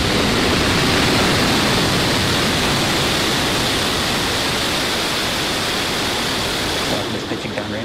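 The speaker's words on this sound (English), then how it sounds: "Ignition and liftoff." A Falcon 9 rocket lifting off on a Starlink mission, its engines producing a loud, continuous broadband roar that stays steady throughout and thins slightly near the end.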